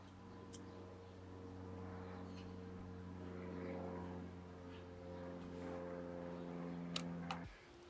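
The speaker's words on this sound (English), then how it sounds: "You just get your airplanes, you get your magpies, your birds." Airplane flying over outdoors in London, a faint steady low drone with sustained tonal hum across the whole stretch, distant, with a few soft bird chirps above it and no talk.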